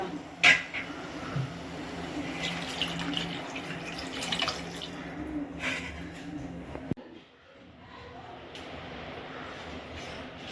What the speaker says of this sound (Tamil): இப்போ இதுக்கு தேவையான அளவுக்கு தண்ணி ஊற்றிக்கலாம்.